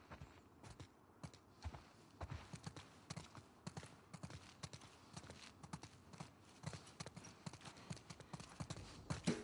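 Horses walking, their hooves clip-clopping in a steady, uneven rhythm that stays faint and continuous throughout, with no voices over it.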